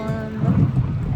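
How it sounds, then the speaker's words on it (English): Steady rain falls outside near a city media entrance on a cold day, a dense continuous patter with a low rumble beneath, heard alone without talk. "It's raining, but honestly, it's not too bad."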